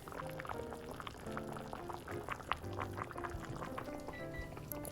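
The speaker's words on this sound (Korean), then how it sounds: "이제 뚜껑을 열어서 한번 봐줄까요?" Pork neck suyuk boiling in a covered pot while the lid is lifted: steady bubbling and gurgling liquid, with a brief clink near the middle and no one talking.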